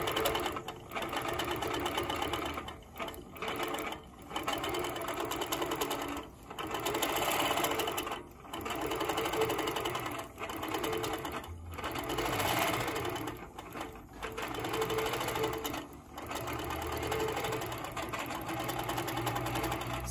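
A Handi Quilter Moxie quilting machine with Pro-Stitcher Lite stitching an edge-to-edge pattern, a close, steady rapid mechanical whir broken by short pauses as the machine stops and restarts.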